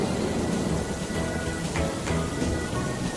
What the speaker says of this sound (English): It's raining, and Peppa spots her rainbow umbrella.